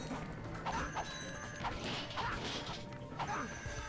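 Repeated wrench melee strikes in Ratchet & Clank 2 HD, a string of metallic whacks and clanks roughly every half second over game sound effects and music, with no talk.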